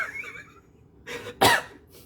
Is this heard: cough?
yes